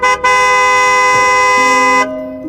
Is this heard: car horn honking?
yes